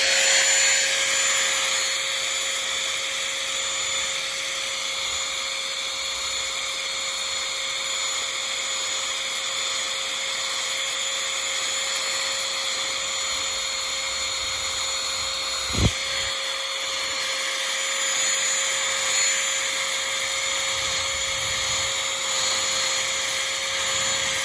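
Vacuum cleaner stripping old foam from the interior of a Ford P5 LTD, a steady close high-pitched whine with a constant tonal drone running throughout, one brief knock midway, no talking.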